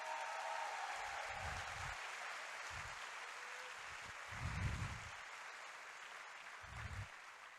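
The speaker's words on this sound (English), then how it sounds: "give a big hand clap for our award-winning winter percussion, our Purple Airs, and our" Applause for an award-winning winter percussion group and JROTC at a township meeting, a steady wash of clapping from a crowd, fairly distant, with brief louder swells.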